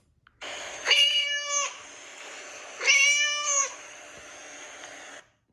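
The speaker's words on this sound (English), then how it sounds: "C is for cat." A domestic cat, played as an animal sound in a children's alphabet app, gives two drawn-out, clear meows a couple of seconds apart against a quiet background.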